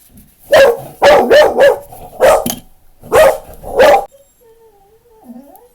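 A dog barks loudly and close by, about six sharp barks in a broken rhythm, then a few soft whines trail off.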